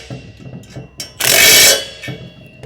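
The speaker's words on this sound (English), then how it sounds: "we're going to take our 9/16 and we're going to snug it up." A 9/16 ratchet wrench snugs nuts on an Aluma 82 Series side spare mount, giving quick soft clicking bursts followed by a loud half-second metallic whir, then a few more faint clicks, close and without talk.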